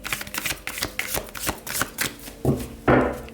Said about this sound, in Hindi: शफल कर लेते हैं कार्ड्स को ऑप्शन 1 के लिए।